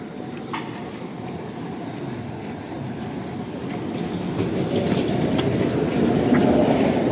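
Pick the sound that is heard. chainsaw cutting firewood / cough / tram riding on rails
tram riding on rails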